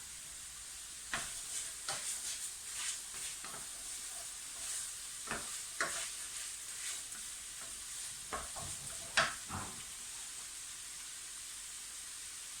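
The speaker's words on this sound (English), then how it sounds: "So in goes our mince. You can turn the heat up slightly now." Minced meat for a bolognaise sauce fries quietly in a pan, a soft hiss punctuated by irregular scraping stirs of a utensil, fairly faint and close, with no talking.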